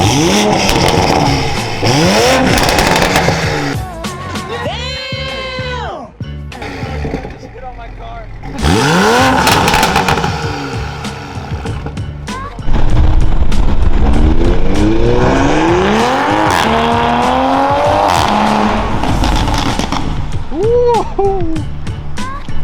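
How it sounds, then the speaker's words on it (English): An A90 Toyota Supra engine revs repeatedly, its downpipe exhaust roaring and crackling loudly up and down in pitch, close by with no talking. "Give you a little few revs of how she is sounding."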